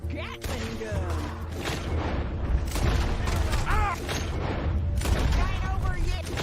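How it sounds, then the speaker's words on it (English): A Gatling gun fires in the video game Red Dead Redemption 2, heard as dense rapid bursts and booming thuds mixed with mechanical clatter, while voices speak over the gunfire. "They brought a Gatling gun."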